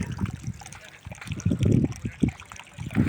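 Water gushes from a pipe coupling on an irrigation line in farmland, a close, uneven trickling and splashing that swells and ebbs in bursts.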